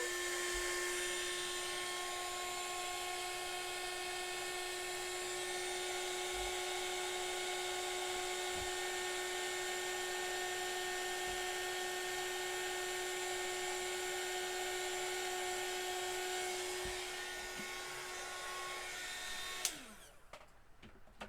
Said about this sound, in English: And now for my heat gun.